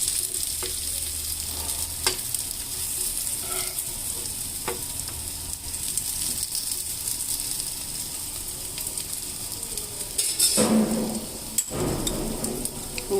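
Old arisalu, Telugu sweet rice cakes, warmed and stirred in a pan over a low flame with a soft, steady sizzle and occasional scraping strokes, a louder clatter near the end.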